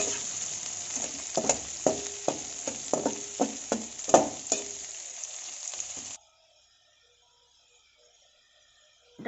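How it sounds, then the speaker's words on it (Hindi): Onions with turmeric fry in hot oil, a close, steady sizzle broken by repeated sharp stirring scrapes and clinks for about six seconds before cutting to near silence. "देसी का प्याज के भाजवा लगे तेल देकर भाजी करें प्याज के"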